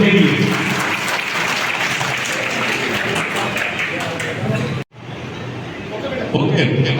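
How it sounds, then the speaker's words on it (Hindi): Loud, sustained audience applause for children at a prize-giving ceremony fills the hall. It dips sharply for a moment near the end, then swells back up, with voices mixed into the clapping. "एक बार जोरदार तालियां सभी"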